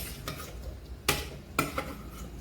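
A spoon stirring oil in a pot before frying chicken feet, a short burst of scraping with two sharp metallic knocks against the pot over a low background hiss.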